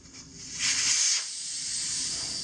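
Air hisses out of a motorcycle inner tube's valve as the valve core is pulled during a rear tire install on a KLX140L, a close, steady rush that swells briefly and then settles into a constant softer hiss.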